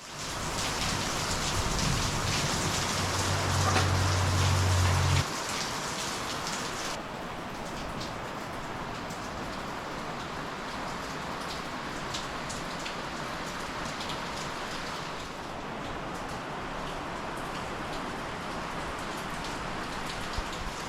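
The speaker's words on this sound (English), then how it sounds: "I don't know if you guys can hear me over the monsoon and thunderstorms out there" Heavy monsoon rain pours steadily throughout, a dense roar of drops with low thunder rumbling in the first few seconds, no voices.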